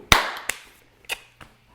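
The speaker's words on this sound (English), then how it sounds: "did you clap while I was clapping?" Hands clap sharply up close, one strong clap followed by three lighter claps spaced unevenly, each decaying quickly in a quiet room.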